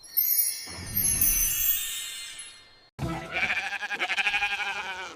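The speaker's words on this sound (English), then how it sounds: "Sheep says baa." A sheep bleats in two separate wavering calls, the second a pulsing, trembling baa, heard close and clear with nothing else around them.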